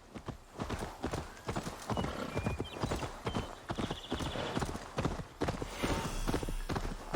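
Horse hooves clip-clop steadily at a trot in Assassin's Creed Valhalla's Wrath of the Druids expansion, loud and close, with brief neighing and game ambience mixed in.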